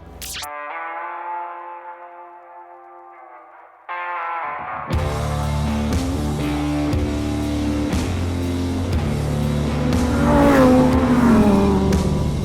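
A Lamborghini Huracán STO engine revs and roars at high pitch on a track, shifting through gears with sustained, distorted intensity, close and loud.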